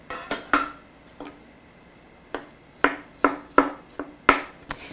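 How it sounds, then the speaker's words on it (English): Garlic chopped with a knife on a cutting board in a home kitchen, heard as sharp, close taps arriving in uneven bursts that quicken toward the end, with quiet gaps between the cuts. "So now I'm going to chop my garlic while the onions cook for a bit."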